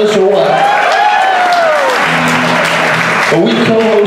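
Audience applause for an Elvis impersonator at a Krazy Kirk and the Hillbillies show at Knott's: a steady, loud wash of clapping with an amplified voice talking over it throughout.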